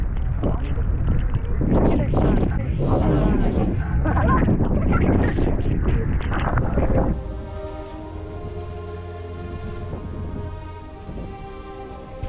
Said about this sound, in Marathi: अचानक वातावरणात चेंज झाला आणि जोराचा वारा सुरू झाला